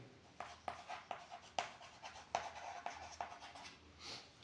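Pen scratching on paper while a maths probability problem is worked out, a quiet run of short irregular strokes and taps with faint room tone and no talk.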